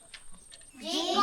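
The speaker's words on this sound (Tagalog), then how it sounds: "O meron pang kambing." Goat bleating outdoors on a hot sunny day, a single wavering bleat swelling up near the end after a quieter stretch of faint background noise.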